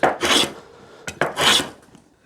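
Two rasping passes of hand sanding or filing on wooden parts for a Rickenbacker 620/12 electric guitar build, each stroke a short bright scrape with a brief tap between, close and alone.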